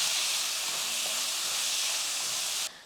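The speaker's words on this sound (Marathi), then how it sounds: "टोमॅटो चांगला मौसूत होईपर्यंत परतून घेऊ" Tomatoes with a little salt sautéing in a pan for chole give a steady, close sizzling hiss that runs unbroken for nearly three seconds, then cuts off abruptly at the end.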